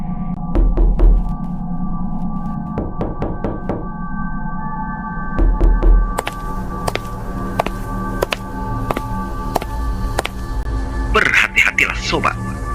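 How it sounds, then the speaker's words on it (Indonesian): Knocking sound effect, clusters of sharp knocks in short bursts over a droning eerie background, with a voice talking over it. "Bahkan terdengar suara ketukan atau langkah kaki di loteng rumahmu."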